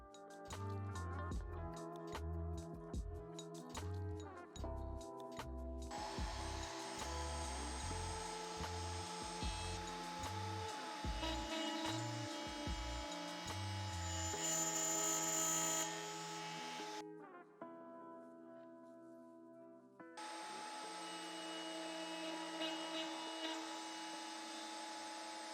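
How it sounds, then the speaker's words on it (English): Router table machining keyholes into wooden floating shelves: loud, steady high-pitched routing broken by pauses, with bursts of low thumping and handling early on and changes in tone as cuts start and stop. "Next it was time to add some keyholes at the router table to allow the shelves to mount onto the wall"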